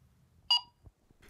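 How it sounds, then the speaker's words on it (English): A Laser X toy laser tag gun's small speaker emits one short, bright electronic beep, followed by a couple of faint soft handling knocks in a quiet room. "there is a small speaker which emits game sounds and a status beep"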